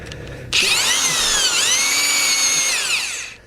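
Powered auger drill spinning down into the ground for a probe installation, a loud high whining motor that starts abruptly, holds steady with a brief dip in pitch midway, then winds down after about three seconds.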